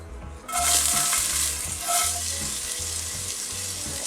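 Chopped onion hits hot oil in a preheated pan for vegan shepherd's pie, a sudden loud sizzle that settles into a steady fry with occasional stirring scrapes, no voices.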